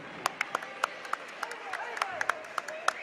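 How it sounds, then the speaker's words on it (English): Scattered clapping at a girls' high school basketball game against Valley as players come off the court, a light, uneven patter of claps from a small crowd with voices talking underneath. "Give a little round of applause here for the kids coming out of the game."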